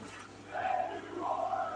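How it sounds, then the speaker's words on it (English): A wrestling arena crowd at AEW Dynamite chants for Orange Cassidy and claps while he holds a microphone in the ring. The rhythmic chant rises in two swells and sounds somewhat distant and muffled over a low hum. "The crowd's chanting, "Thank you, Orange," and clapping."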